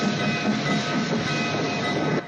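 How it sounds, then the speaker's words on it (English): A train rumbles steadily past for a couple of seconds, a loud, dense roar with rolling wheel noise close by and no one speaking. "They're waiting for the train."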